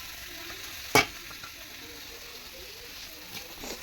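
A mixture for winter pitha stir-fries in a pan, giving a steady low sizzle with one sharp scrape of the spatula near the start and softer stirring scrapes later.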